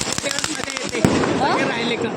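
Diwali firecrackers burst in a crowded outdoor spot: a quick string of sharp, close pops, then one louder crack, while people talk over the noise.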